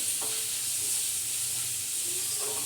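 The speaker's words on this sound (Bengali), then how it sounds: "এবার খানিকটা ভেজে নেব যত সময় পেঁয়াজটা লাল লাল না হয়" Onions fry in a pan with salt and turmeric for egg masala, producing a steady hissing sizzle with a few faint stirring scrapes, even and moderately quiet throughout.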